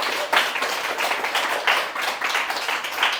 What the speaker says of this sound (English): Can we just get a bit of social support round of applause?